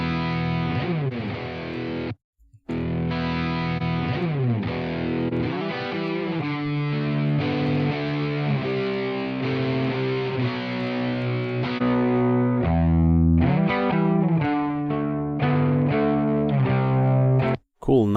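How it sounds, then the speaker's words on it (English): Electric guitar played through a free Blackstar amp plugin on its clean channel with reverb, pushed into a mild breakup crunch; continuous chords and single notes ring for nearly the whole stretch with only a brief gap, no talking over it. "Cool, nice breakup tone."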